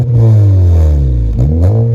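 A 2017 Honda Accord with a 2.4-liter four-cylinder engine and a Magnaflow exhaust revs loudly up close. The engine climbs and eases off, then quickly blips up again with a deep, droning exhaust note.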